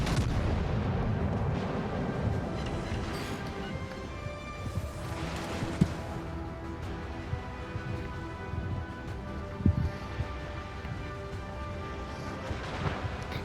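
Secondary guns on a warship in World of Warships Legends boom in a dense, rumbling barrage of distant artillery fire, with a few sharper reports standing out over the continuous low roar.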